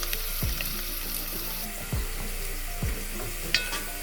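Garlic sizzles steadily in a hot pan while cooking for a beef stew, with a few sharp utensil knocks and stirring clanks at intervals over the close, continuous frying hiss.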